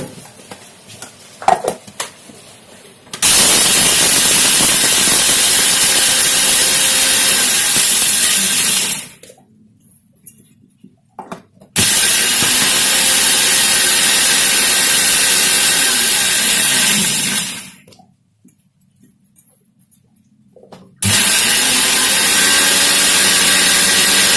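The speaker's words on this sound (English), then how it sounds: "now I'll be first grinding the powder" Spice powder for South Indian rasam being ground in an electric mixer grinder, a loud steady whirring roar in two long runs of several seconds with silent pauses between, plus a shorter start, no talking.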